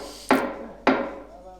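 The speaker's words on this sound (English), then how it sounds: "A long pipe and a little bit of hammering, and nothing moved." On the lift cylinder of a 2021 JCB 411HT wheel loader, being forced apart with a long pipe, two sharp metallic hammer blows ring out about half a second apart, loud and close, each decaying quickly.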